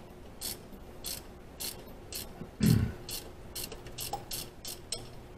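A ratchet wrench loosens engine bolts, giving a close, rhythmic series of quick clicking bursts with a heavier clunk partway through, no talking.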